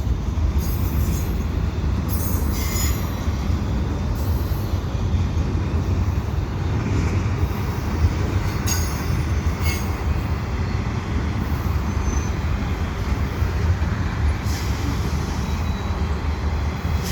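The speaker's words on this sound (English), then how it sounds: "I do like it when all the trains seem to be coming at once." Steady, heavy rumble of a long CSX freight train rolling by close, wheels clattering continuously with faint metallic squeals above, no voices.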